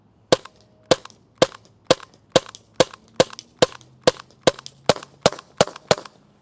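A PepperBall VK-SBL launcher fires fifteen sharp, evenly spaced shots in rapid succession, each a loud, close crack with no talking between them.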